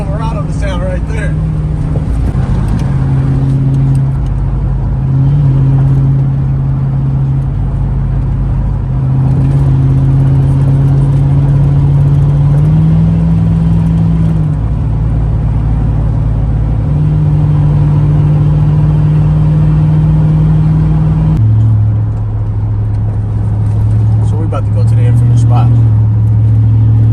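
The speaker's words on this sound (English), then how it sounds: "That's how I'm trying to get the Silverado to sound right there." Chevrolet Silverado truck engine droning loud and close, its pitch rising and falling through repeated revs over nearly half a minute, with a person talking over the engine.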